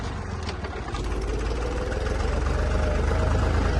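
A Deutz-Fahr tractor engine runs steadily at idle, a loud low throbbing drone that grows slightly stronger over a few seconds.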